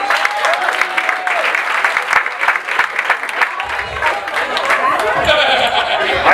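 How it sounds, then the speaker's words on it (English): An audience claps loudly and steadily in dense applause, with whoops and crowd chatter mixed in throughout. "Give me a round of applause."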